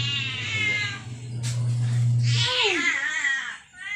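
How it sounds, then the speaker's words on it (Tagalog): A cat meows loudly and close by outdoors near a washing machine, with long drawn-out wavering calls followed by a shorter rising meow, with no speech. "May pusa."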